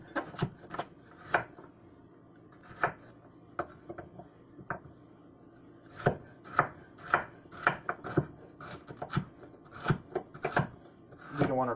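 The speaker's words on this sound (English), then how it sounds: "we're going to cut our carrot in half. And we're just going to cut slices." Knife slicing a carrot on a cutting board for chicken soup, quick crisp chops in irregular bursts with pauses between, close and clear, no talking.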